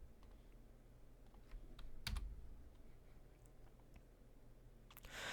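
Computer keyboard keys pressed while drawing points and lines in AlgeoMath geometry software, a few scattered soft clicks and one louder tap over a steady low hum, no talking.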